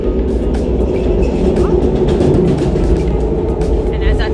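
A Metro North train rumbles steadily overhead above an urban garden center, a loud continuous roar with clatter that fills the whole stretch and drowns out other sound.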